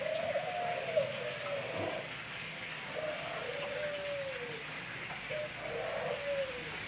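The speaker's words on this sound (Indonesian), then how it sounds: "kandang penangkaran tekukur, jenis-jenis tekukur warna sama" Soft, low turtle doves cooing in repeated phrases at a breeding cage, three bouts spaced a couple of seconds apart over a steady background hiss.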